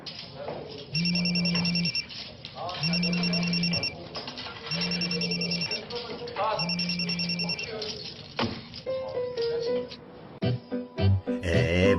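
A telephone rings in repeated bursts, four long electronic ring tones with pauses between them, fairly loud and close, followed by clattering handling sounds and brief voices.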